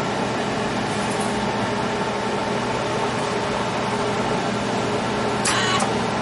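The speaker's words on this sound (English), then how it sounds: "Let me squeeze the old trigger on the MIG gun." The wire feed drive of a Miller Autoset 140 MIG welder runs on a trigger squeeze with a steady, close mechanical whir and hum, broken by a brief scratchy burst near the end.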